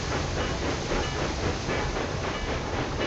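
A train runs through a tunnel in Railway Empire 2, giving a loud, dense, continuous roar with rhythmic clattering of wheels and a steady hiss.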